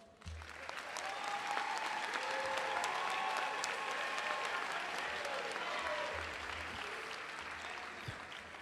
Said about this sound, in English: Would my valedictorian and salutatorian stand for a moment for one more round of applause?